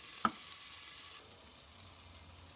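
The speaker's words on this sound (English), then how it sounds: "As you can see, the onions are browning, so they're mostly done." Onions browning in a pot give a steady soft sizzle, opened by a brief clack of a utensil, then settling into a quieter hiss.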